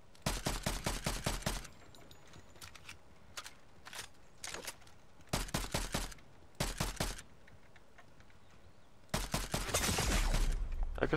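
Rifle fire in Fortnite comes as rapid clusters of loud, sharp shots separated by short pauses, ending in a denser burst with no talking.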